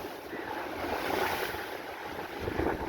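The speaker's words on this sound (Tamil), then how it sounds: "என்ன அவ்வளவு காற்றும் கடல் அலைகளும் வீசி கொண்டிருக்குது" Strong gusting wind and crashing sea waves at a beach in Jaffna during a sudden storm, a dense, loud, continuous roar with no voices.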